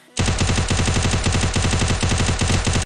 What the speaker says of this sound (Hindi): तो अब मैं इसके बॉडी पे कंटिन्यूस शॉट देने वाला हूँ।